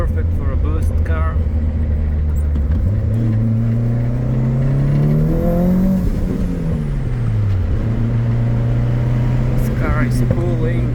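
A Mitsubishi Eclipse GSX second-generation turbo car pulls hard under boost, its engine drone rising and falling in pitch through the gears, loud and steady from inside the cabin.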